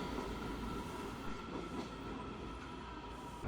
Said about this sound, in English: From here, you're able to get a good view of trains passing underneath.